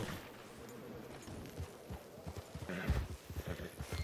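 Horse hooves clip-clop in a wild west video game, a quick irregular run of soft thuds growing denser and louder toward the end over a muffled background.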